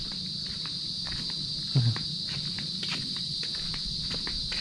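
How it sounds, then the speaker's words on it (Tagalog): A continuous high cricket chirr fills the background at a farm campsite at night, steady and even, with faint light tapping sounds and a brief low thump partway through. "Naririnig nyo yung mga kuliglig ba tawag dyan?"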